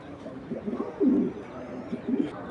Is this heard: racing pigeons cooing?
yes